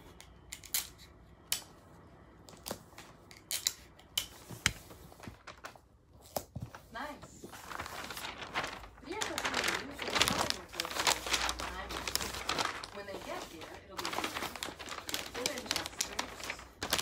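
Scissors snip through wrapping paper in quick strokes, followed by crinkling and rustling as the paper is folded around a gift, with people talking nearby.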